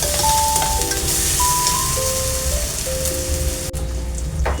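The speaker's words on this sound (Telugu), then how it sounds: "అల్లం వెల్లుల్లి పేస్ట్, పసుపు వేసుకుని పచ్చివాసన పోయే వరకు వేయించుకుందామండి" Ginger garlic paste and turmeric frying in a pan, with a steady close sizzle like rain on a surface running throughout, and faint thin tones over it.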